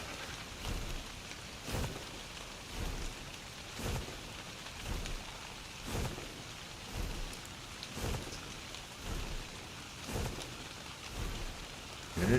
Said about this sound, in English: And it's raining. It is flat raining.